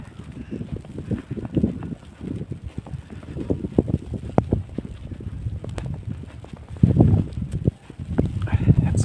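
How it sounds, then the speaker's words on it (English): Strong outdoor wind in New Orleans buffets the microphone with low rumbling gusts that swell and ease throughout, loud and close, with a person speaking briefly over it. "the wind is just about to kill me"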